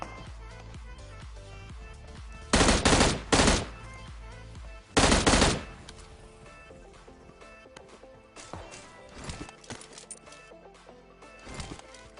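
Gunfire in the mobile game PUBG Mobile, two loud bursts of rapid automatic fire followed by fainter, scattered shots further off, with game ambience underneath.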